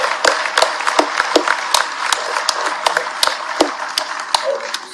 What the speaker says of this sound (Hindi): एक बार ताली बजे तो ऐसी बनना चाहिए।